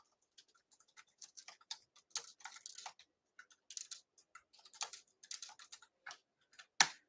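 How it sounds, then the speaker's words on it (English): Computer keyboard keys tapped in quick, uneven bursts of light clicks with short pauses between runs, close and fairly quiet, ending on one sharper knock. "I'm gonna type it in the chat for you."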